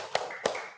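Two crisp hand claps in a classroom clapping chant, spaced about a third of a second apart, each followed by a short ringing tail in a quiet room.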